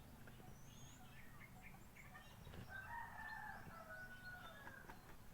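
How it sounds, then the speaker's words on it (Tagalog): A rooster crows at a distance, a drawn-out call rising over steady low background noise, with fainter bird chirps around it. "Tawag ng manok na ko oh."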